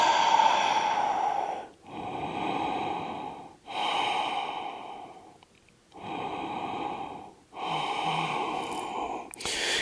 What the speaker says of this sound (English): Couple breaths.